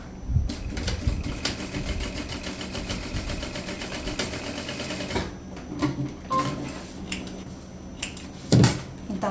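Sewing machine running in bursts as it stitches and backstitches a seam on a fabric divider for an eco tote bag, a mechanical whirring with short pauses and a clunk near the end.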